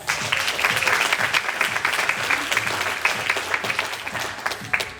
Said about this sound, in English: let's give a round of applause to this list of people